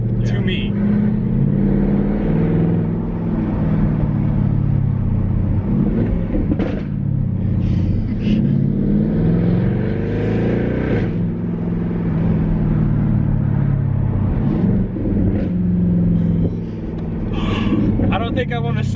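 A Jaguar XK 5.0 naturally aspirated V8 with its muffler deleted revs repeatedly, a deep, loud, aggressive exhaust roar rising and falling close by, with people talking over it.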